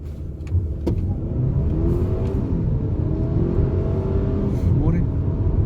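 A 2019 Mercedes-Benz GLA250 4Matic accelerates at full throttle, heard from inside the cabin as a steady, loud engine drone that climbs in pitch through the gears, with brief clicks near the start.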